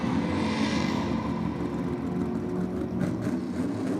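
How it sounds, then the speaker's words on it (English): A drag racing Nissan Skyline with a supercharged LS engine making a pass at a championship meet, a steady, dense engine drone that holds loud and constant throughout, heard from a distance with no talking. "The old Skyline sounds pretty good with that supercharged LS."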